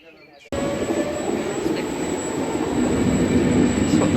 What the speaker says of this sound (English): That's what the trains are like,